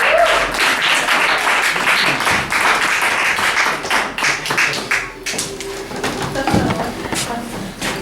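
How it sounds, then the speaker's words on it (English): An open mic audience applauds loudly and continuously for several seconds, with dense clapping that thins slightly toward the end. "I'm not going to ask you to clap for him again. You just got to clap"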